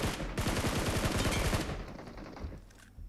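Rapid automatic gunfire from the mobile battle-royale game PUBG Mobile rattles loudly in a dense burst for about a second and a half, then fades into quieter scattered shots and ambience.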